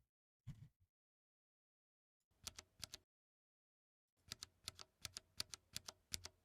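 Cherry MX Red mechanical keyboard switches clack in short bursts: a couple of isolated presses, then a quick run of crisp, evenly spaced keystrokes, close and clear against silence.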